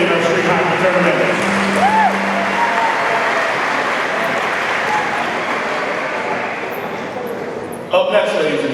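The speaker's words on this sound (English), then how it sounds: "Big round of applause for all those who participated in our street hockey tournament." An audience at a freshman orientation closing ceremony applauds, making a loud, dense, sustained clapping that fills the clip and thins slightly toward the end.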